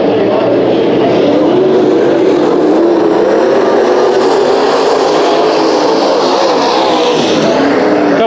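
Dirt track race cars roar through a heat race at Bakersfield Speedway on the opening lap, a loud, continuous wall of engine noise that swells and fades slightly as the field passes.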